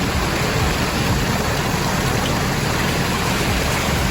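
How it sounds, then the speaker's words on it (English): A large 30-foot pondless waterfall and stream in Pennsylvania rushes continuously, a dense, steady, loud roar of splashing water heard alone without voices. "This is what a 30-foot waterfall and stream that's 8 to 10 feet tall look like."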